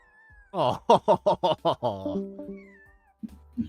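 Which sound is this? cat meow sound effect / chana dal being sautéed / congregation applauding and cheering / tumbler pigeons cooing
cat meow sound effect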